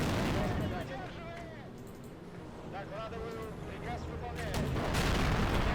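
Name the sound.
artillery fire in the video game BKII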